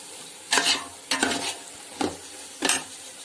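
Biryani masala sautéing in a pan, with four separate bursts of spoon scraping and stirring over a soft, low sizzle, each stroke short and close.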